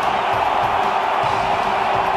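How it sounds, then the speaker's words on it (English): A cricket stadium crowd at a Mumbai Indians versus Chennai match roars after a six, a dense loud continuous wall of cheering without a clear break. "And the crowd go berserk"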